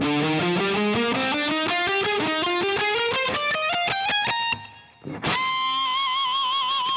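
A distorted electric guitar plays a fast ascending run of repeated note patterns, loud and continuous, ending with a sustained bent note after a brief gap.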